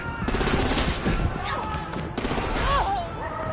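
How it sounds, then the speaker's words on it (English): Gunfire in Batman: The Enemy Within, sharp shots and a rattling burst layered under dialogue and a dense game soundtrack, with a brief rising whine near the end. "Oh, she got shot."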